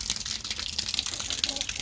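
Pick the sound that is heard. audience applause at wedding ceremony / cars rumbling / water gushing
water gushing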